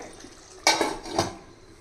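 A metal lid clanks onto a pot of simmering curry: a sharp metallic clatter, a brief rattle, then a second lighter clink as it settles, close and alone against quiet kitchen background.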